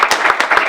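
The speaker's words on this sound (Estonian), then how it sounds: "teeme nüüd Ansoorile ühe aplausi" Audience applause at a club talk evening, a short burst of several quick hand claps, close and fairly loud, with no talking.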